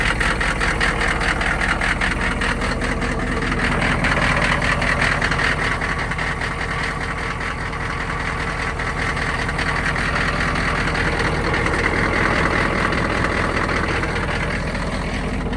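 A diesel engine on new glow plugs and fresh oil idles after a cold start in freezing, snowy weather, holding a steady, loud, close low rumble with a faint knocking rhythm and no talk.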